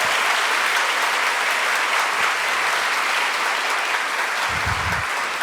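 Steady applause from a bookstore audience at an author event, a dense continuous wash of many hands clapping that holds evenly for several seconds without a break.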